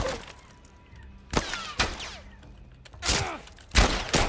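Gunfire in The Last of Us: a handful of sharp, loud shots fired irregularly, some in quick pairs, standing alone with no speech.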